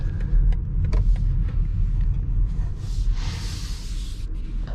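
A 2025 BMW X3 xDrive20d diesel SUV accelerates hard from a standstill toward 100 km/h, heard from the cabin as a steady low engine drone with road and tyre roar, plus a few brief clicks and a whooshing swell midway.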